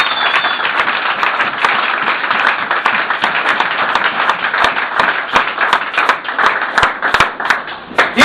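A church congregation claps loudly and continuously to acclaim the Lord, a dense, steady wash of many hands with no talk over it.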